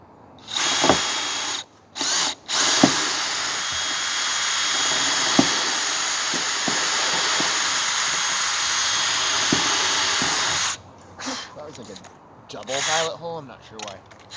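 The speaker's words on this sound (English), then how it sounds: "I'm just gonna re-drill another one alongside it. Maybe just a pilot hole, same spot." A power drill re-drilling a pilot hole in a van, a loud sustained whine lasting several seconds after a few short bursts, with faint knocks underneath and a voice talking near the end.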